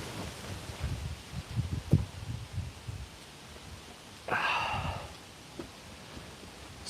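Wind gusts across an outdoor golf course and rumbles in the microphone with uneven buffeting bursts, plus a brief hissing rush partway through.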